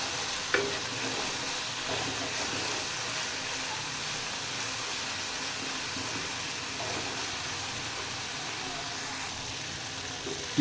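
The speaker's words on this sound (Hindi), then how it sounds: "इसको अच्छी तरह से मिक्स करके भून लेंगे" Masala with red chili powder being stirred and fried in oil for a Pakistani chicken paye dish, a steady low sizzle with occasional scrapes of the spoon across the pan, no talking.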